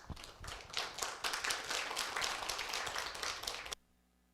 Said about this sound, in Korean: 여러분 큰 환영의 박수 부탁을 드립니다.